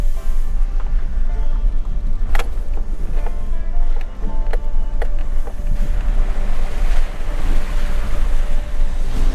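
A lifted Subaru Outback rumbles steadily through a creek crossing, with continuous splashing and sloshing, a few sharp knocks and wind noise over the microphone.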